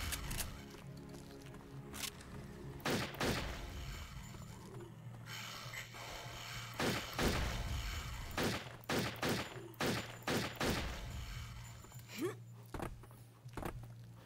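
Sharp pistol shots in the video game Turok 3, a series of loud cracks spread across the stretch, some in quick pairs, over a steady low game hum and ambient sound.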